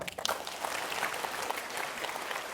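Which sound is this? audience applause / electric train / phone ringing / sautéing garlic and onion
audience applause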